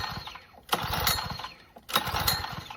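The motor of a Southland walk-behind trimmer with a locked-up pulley head is turned over in three rough, laboring cranking bursts, each swelling and fading, close by.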